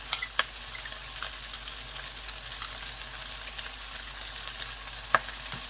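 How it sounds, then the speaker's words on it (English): Sausage pasta sizzling in a pan as seasoning and ground pepper are stirred through, a steady close hiss with a few sharp spoon clicks at the start and near the end, no voices. "I'm going to stir all that in."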